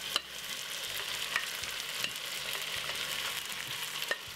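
Beef steak fries in a pan with no added oil, giving a continuous close sizzle with occasional sharper crackles and pops as the meat cooks.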